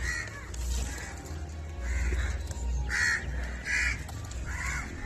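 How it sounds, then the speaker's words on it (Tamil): Four hungry crow chicks in a coconut tree give harsh, repeated caws in several close, loud bursts over a steady background hum. "காக்காவோட குட்டி 4 இருக்கு."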